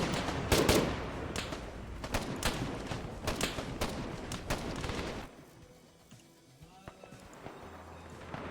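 Rapid bursts of gunfire ring out in the military shooter game Arma 3, sharp repeated shots for about five seconds, then a quieter stretch with a few faint distant pops.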